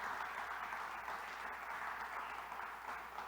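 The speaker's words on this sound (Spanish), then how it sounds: "Dale un fuerte aplauso al Señor en esta buena mañana de domingo" A congregation at a Sunday morning church service claps in steady, dense applause, moderately distant and even throughout.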